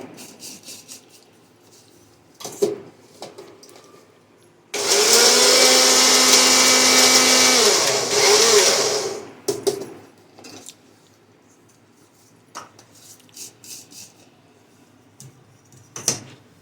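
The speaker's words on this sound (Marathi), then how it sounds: "लाल तिखट घालून आधी एकदा फिरवून घेते" A kitchen mixer grinder blends red chilli powder and spice masala for mango pickle, roaring loudly for about five seconds before winding down, framed by quieter clinks and handling noises.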